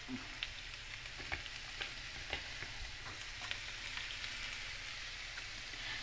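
Onions and garlic for pork giniling sizzle quietly in a pan, a soft continuous frying crackle with scattered small pops and faint stirring clicks, no voices over it.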